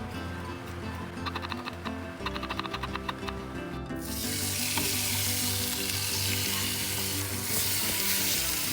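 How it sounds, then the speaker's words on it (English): Bacon frying in cooking oil, a steady crackling sizzle that starts with lighter spattering and scraping, then swells into a loud, dense sizzle about halfway through. "Fry the bacon in cooking oil until both sides are cooked."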